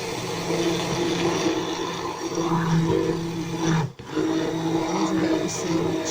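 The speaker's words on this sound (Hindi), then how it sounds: "इलेक्ट्रिक ब्लेंडर से जो है वो मैंने इसको अच्छी तरह से मिक्स किया है" An electric blender whirs steadily while mixing pancake batter, a continuous motor drone with a brief dip in the middle before it resumes.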